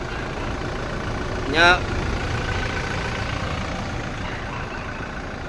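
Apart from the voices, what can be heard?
2018 Toyota Hilux engine idling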